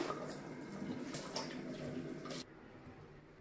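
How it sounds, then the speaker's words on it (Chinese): Salt-soaked bayberries are rinsed under running water in a kitchen, a close, steady splashing stream that stops abruptly partway through, leaving a faint quiet hum. "泡好的杨梅再冲洗干净"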